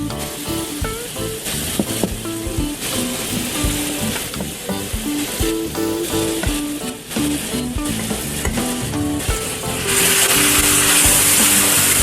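Steak sizzles loudly in butter in a pan, with a constant crackling fry broken by utensil clatter and stirring, the hiss swelling brighter toward the end.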